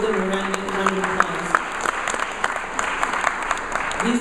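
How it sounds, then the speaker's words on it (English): A Mawlid gathering at Princeton University breaks into steady, dense audience applause for the hardworking audio services team, with a voice faintly audible over the clapping. "give them a round of applause"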